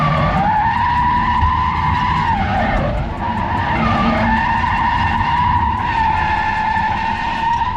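A Tesla car drifting on a track, its tires skidding and squealing in a loud, sustained wail that dips briefly in pitch midway before rising again, with engine noise running underneath throughout.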